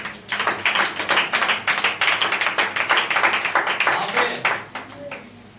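A Sunday church congregation claps loudly and steadily in a fast, even rhythm for several seconds, many hands together at close range, tapering off at the end.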